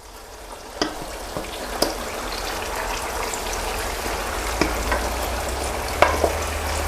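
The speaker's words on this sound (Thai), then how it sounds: "พอน้ามันร้อนแล้วลงทอดได้เลยครับ" Continuous bubbling sizzle of chicken wings deep frying in hot oil, with occasional sharp pops and crackles, close and fairly loud, no talking.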